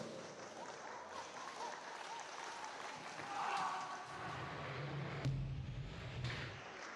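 At an indoor international athletics meeting, rhythmic clapping spreads through the arena as an athlete claps along, heard over a murmuring crowd with a thud and some voices partway through.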